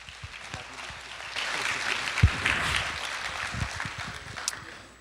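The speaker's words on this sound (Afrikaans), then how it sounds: "Gee hom 'n lekker hande klap." Church congregation applauding a speaker, a warm swell of clapping that builds, holds, and then tapers off, with a few scattered louder claps.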